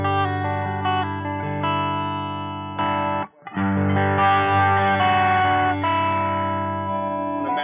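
A dry, unprocessed electric guitar with no reverb or delay plays sustained chords and single notes loudly and up close, with one brief gap midway, alone without talk.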